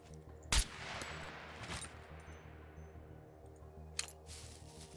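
An auto crossbow fires in the survival video game SCUM, giving a few sharp, snapping shots spaced irregularly over a low ambient hum. The shots sound close but fairly quiet, with no talk.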